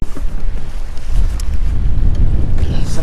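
Heavy wind pounds the microphone on a fishing boat out on open water, a loud continuous rumble with wave wash underneath and no talk.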